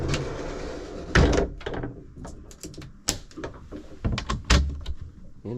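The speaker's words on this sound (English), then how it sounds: "Nice slider door." A sliding door aboard a Nordic Tug 34 boat rolls along its track close by, with a rumbling glide and a few sharp knocks and clacks as it moves and settles.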